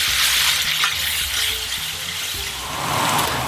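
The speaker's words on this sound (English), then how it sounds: "I've been cooking these tomatoes and onions with a piece of cinnamon for spot on 10 minutes" Tomatoes and onions with a piece of cinnamon cook in a pan with a steady, continuous frying sizzle and a soft broadband hiss, with no voices.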